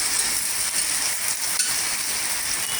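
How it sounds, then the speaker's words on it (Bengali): Chopped vegetables, tomato and capsicum with spice tempering sizzling in a pan for a flattened-rice pulao, a steady loud crackling hiss with light stirring scrapes throughout. "এবার লবণটা দিয়ে সমস্ত সবজি এবং ফোড়নটা আমি ভেজে দিচ্ছি।"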